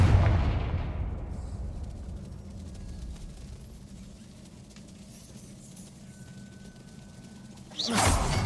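A Confringo fire spell cast in the Hogwarts Legacy video game bursts with a loud whooshing blast at the start, fading into a low rumbling tail before another sharp burst near the end.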